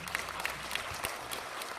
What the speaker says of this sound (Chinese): 是不是这里应该有掌声啊